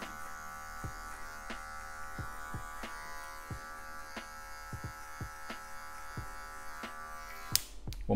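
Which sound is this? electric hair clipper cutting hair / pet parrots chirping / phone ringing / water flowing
electric hair clipper cutting hair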